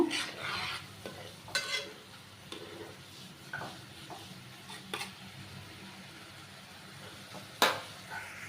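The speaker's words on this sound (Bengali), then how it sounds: "এইটারে আমি ভালো করে কষায় নিব" Vegetables being sautéed in a pan, with repeated spatula scrapes and clanks over a low, continuous sizzle, recurring irregularly and close by, with no speech.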